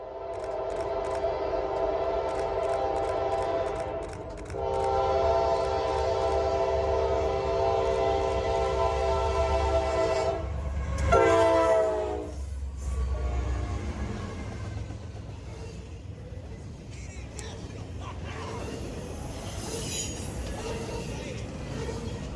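A big red freight locomotive rumbles past up close with a loud, sustained horn blast, its engine drone and wheel noise continuing as it moves away.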